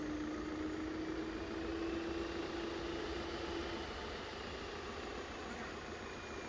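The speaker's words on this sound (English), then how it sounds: "with Pratt & Whitney's, Little bit of throttle there." A freighter aircraft with Pratt & Whitney engines throttles up at East Midlands Airport at night, a steady loud engine roar with a rising whine that stays even and close throughout.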